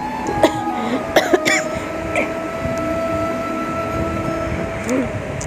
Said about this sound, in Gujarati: જ્યારે બોલવા જાઉં ત્યાં ઉધરસ આવી જાય